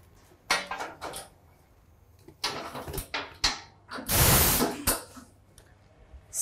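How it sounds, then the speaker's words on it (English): Three hoses are being connected at the back of a Bystronic fiber laser cutting machine with a rotary axis. Close mechanical clunks, clicks and short hissing bursts come in uneven clusters, with a louder sustained rush partway through and no talking. "Here on the back side of the machine, we are connecting those three hoses"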